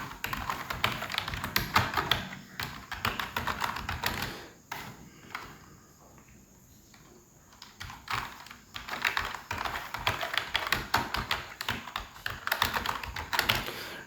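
Steady computer keyboard typing in bursts of rapid clicks, with a pause in the middle before the keystrokes resume, close and clear with no talk.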